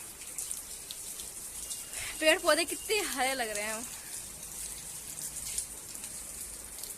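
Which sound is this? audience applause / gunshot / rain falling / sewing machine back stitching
rain falling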